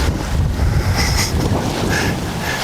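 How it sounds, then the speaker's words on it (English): Strong wind buffeting outdoors on an open disc golf field, a loud, continuous low roar that swells and eases slightly throughout. "It's a little windy for a glitch."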